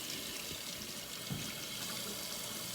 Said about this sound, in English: I'm gonna wash my onion off.